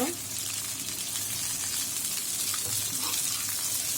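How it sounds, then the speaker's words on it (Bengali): Pointed gourd peels frying in hot oil in a home kitchen, giving a steady close sizzle with faint stirring scrapes throughout. "এখন দিয়ে দিব পটলের খোসা প্রিয় ভিউয়ার্সগুলো তেলে ভেজে নিব"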